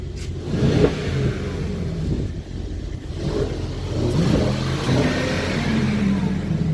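A powerful biturbo V8 car engine revs with a deep, rumbling roar that swells and eases over several seconds, loud and close, with no talking.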